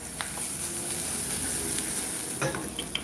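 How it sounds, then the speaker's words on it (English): Food fries in a pan with a steady, soft sizzling hiss, the heat just switched off, while faint clinks and a stirring scrape sound near the end. "Do you hear the sizzle?"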